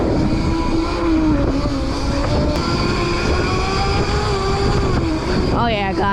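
An Anyland Rev Pro auto wheelie dirt bike is ridden, its engine giving a loud, close, steady whine over a rough rumble, with the pitch wavering near the end.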